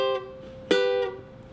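Ukulele picking a riff with short, staccato notes: a few clipped plucked tones, a brief pause, then another sharp note that is cut off quickly, played alone at close range.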